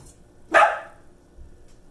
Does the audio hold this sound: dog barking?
yes